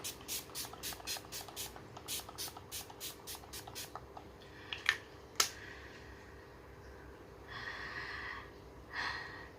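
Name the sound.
spraying rose water and aloe vera face mist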